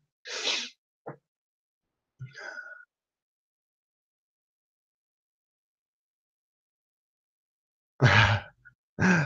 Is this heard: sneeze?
yes